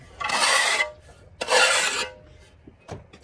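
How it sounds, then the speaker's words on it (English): Flat back trowel spreading tile adhesive, heard as two loud, close scraping strokes of about half a second each, followed by a fainter short scrape. "Then flat back trowel it."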